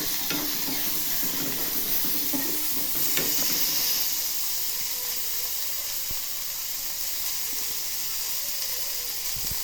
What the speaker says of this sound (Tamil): வெங்காயம் வதங்கட்டும்.